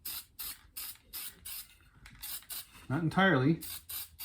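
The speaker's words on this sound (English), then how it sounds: "I'm spray painting this neck green." A can sprays green paint in short repeated hissing bursts onto a cigar box guitar neck, close and steady, with a brief spoken phrase in the middle.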